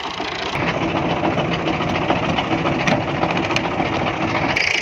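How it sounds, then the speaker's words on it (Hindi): A tractor engine drives across a wheat field during sowing, with a steady, loud mechanical drone and rattle that continues throughout with no talking. "आगे लेके जा रहा है ट्रैक्टर"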